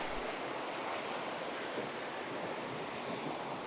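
A small stream flows beneath a suspension bridge near a waterfall in Luang Namtha, heard as a steady, dense rush of water from below, constant and unbroken with no voices.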